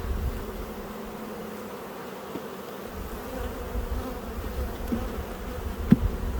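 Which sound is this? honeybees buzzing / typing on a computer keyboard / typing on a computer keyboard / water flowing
honeybees buzzing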